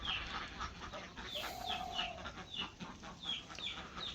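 A rooster crows once in a rural village yard, the call rising over steady outdoor background noise, with scattered chicken clucks and other bird sounds around it.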